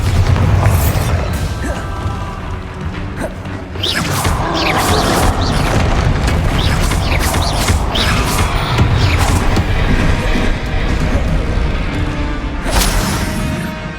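Spell explosions from the Bombarda spell in Hogwarts Legacy boom and crash one after another in a dense, loud stretch of game combat, with bursts, crackles and debris sounds piling up, and no speech.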